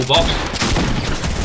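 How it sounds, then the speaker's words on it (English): Dense burst of automatic gunfire mixed with a shotgun blast in Fortnite Season 8 combat, loud and continuous across the whole moment, with a brief spoken word over it. "he sprayed, no, I missed my shotgun shot as well"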